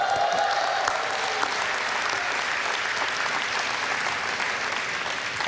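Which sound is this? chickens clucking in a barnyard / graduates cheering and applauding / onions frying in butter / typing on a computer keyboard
graduates cheering and applauding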